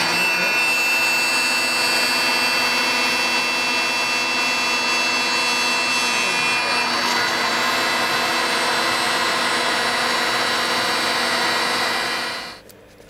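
A CNC spindle cuts a 12 mm acetal Z-axis top motor plate with a steady, loud, high-pitched whine and rasp that runs unbroken and then winds down at the end.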